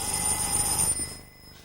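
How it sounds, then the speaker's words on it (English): An old-fashioned telephone bell rings loudly for about a second, then stops and gives way to near silence. "the phone finally rang."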